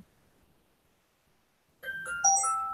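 After near silence, a phone notification sounds: a short, bright, bell-like chime of a few clear tones, alone in a quiet room.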